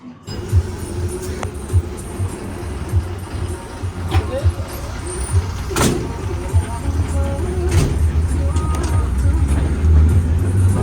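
Riding inside a moving bus in Kannur: a continuous low road rumble and engine drone steadily builds louder, broken by occasional knocks and rattles from the cabin, with faint voices now and then in the background.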